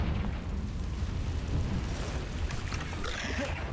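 A Confringo fire spell blasts in Hogwarts Legacy inside a cave, a sustained fiery whoosh and rumble of steady loudness with no talk over it.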